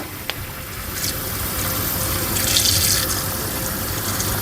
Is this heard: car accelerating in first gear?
no